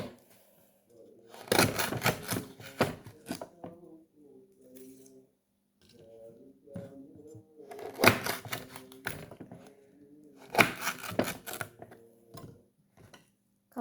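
Fresh, firm lemongrass is chopped in bursts of rapid, sharp knife taps on a board, with quieter stretches between where a voice talks.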